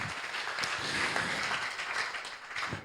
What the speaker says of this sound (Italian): Un applauso alla produzione ANCE.